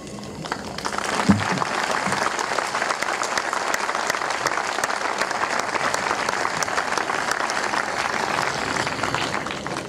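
Sustained, dense applause from a large audience at a stage event honoring war heroes, clapping steady and close for the full stretch with no talking over it.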